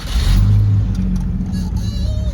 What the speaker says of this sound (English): Now this truck does have a vacuum leak, so it already kind of runs a little bit rough.